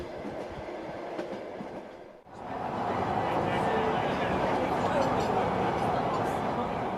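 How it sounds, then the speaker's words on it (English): Trans-Siberian passenger train running on rails near Kazan, a steady loud rumble and rattle heard from inside the carriage, with a brief dip before the noise swells again. "The train is nearing Kazan."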